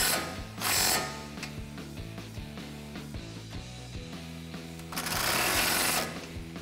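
A ratchet socket wrench tightening a nut during a Mammoth leveling kit install on a Toyota Tacoma, a close rapid mechanical clicking run with two bursts of louder ratcheting, no talking.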